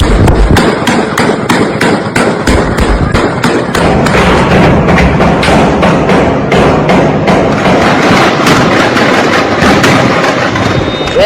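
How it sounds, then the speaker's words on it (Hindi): Rapid bursts of sharp gunshots crack repeatedly, some in quick volleys, loud and close, over a constant rough background din. "ड्रग माफिया के जो समर्थक हैं वो गोलियां चला रहे हैं"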